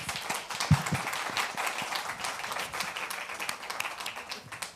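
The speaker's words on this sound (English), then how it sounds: "let's give them a quick round of applause" Steady, fairly faint applause from an audience at a speaker series event, a dense patter of many hands clapping for the panel speakers and holding evenly throughout without voices.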